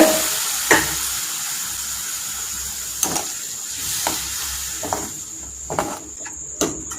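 Paneer pepper masala sizzling steadily in a pan, a continuous frying hiss broken by several sharp scrapes and clinks of a spoon stirring, with no one talking.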